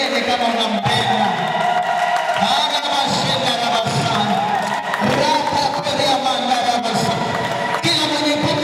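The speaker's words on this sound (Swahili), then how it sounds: "Mwongezee vigelegele kama unampenda." Church congregation at a worship service ululating and cheering, a dense loud mass of high trilling voices and shouts with crowd noise throughout.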